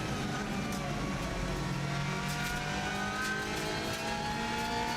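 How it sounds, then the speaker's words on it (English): Race car engine at full song during a record TT lap, a steady loud roar from onboard with rising pitch sweeps as the fast-changing 6-speed paddle-shift gearbox clicks through gears. "I'm changing gear with the paddle on the right hand side, pull it back to go up the gears and push it away to go down"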